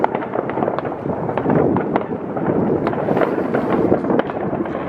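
New Year fireworks crackle and pop in a dense, continuous barrage of overlapping bursts, some sharp and near, others rumbling farther off, with no clear speech.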